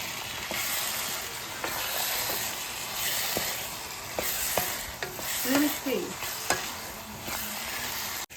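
A spoon stirring chickpeas into sizzling masala in a pan for biryani, with a steady frying hiss and repeated scraping strokes and clinks against the pan, plus a few faint voices near the end.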